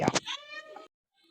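A house cat meows once up close in a kitchen, a drawn-out loud call with a rising then falling tone, followed by a short pause and a faint trailing sound.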